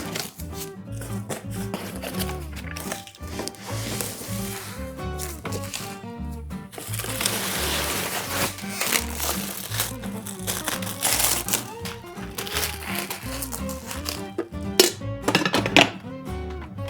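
A GEVI 10-cup grind-and-brew coffee maker being unboxed, with continuous rustling, crinkling packaging, cardboard scrapes and occasional thunks, fairly loud and close throughout.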